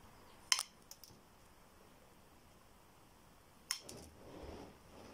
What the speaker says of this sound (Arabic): بالبداية رح نقص طرف المصاصة